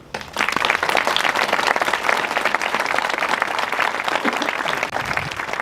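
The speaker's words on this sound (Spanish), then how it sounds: "y este aplauso es para vosotros otra vez" A crowd applauds steadily at a memorial tribute to victims of Francoism at Madrid's Cementerio del Este, dense clapping that starts abruptly and continues loud and sustained throughout.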